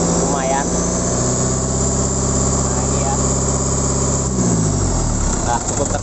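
A car engine with thick exhaust smoke revs after a new air filter is fitted, a loud close drone that holds steady and then drops in pitch near the end, with someone talking over it.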